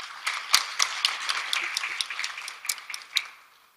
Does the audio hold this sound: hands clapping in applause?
yes